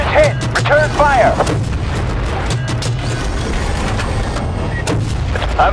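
Incoming artillery booms and gunfire crack through a Battlefield Bad Company 2 campaign battle, dense repeated blasts over a rumbling backdrop with shouted voices in the mix.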